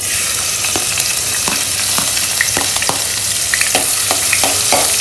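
Garlic crackles loudly in a couple of spoons of hot oil, beginning a tempering for a Maharashtrian wild-greens dish; a dense, close sizzle with scattered pops and light stirring throughout.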